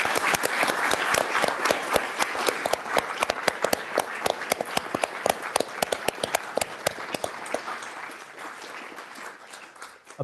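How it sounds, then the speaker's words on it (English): Audience applause after a small business general election debate, a room full of sharp, close claps rolling on steadily before gradually tapering off toward the end. "I'd invite you to give another round of applause to thank Kevin, Jonathan and Sarah for their time this evening."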